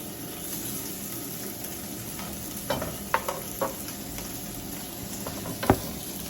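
An A5 wagyu steak sizzles in a pan, a soft steady frying hiss with a few sharper pops and crackles, heard close up and without talking.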